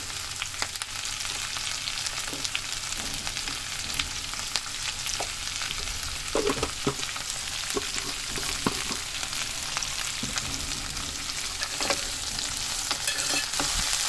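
Cabbage curry frying in a pan gives a continuous close sizzle, with a spoon scraping and knocking against the pan in an irregular rhythm as it is stirred.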